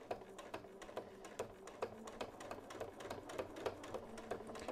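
Sewing machine stitching in the ditch on a quilt, a quiet rapid train of needle clicks with a steady mechanical rhythm heard close up.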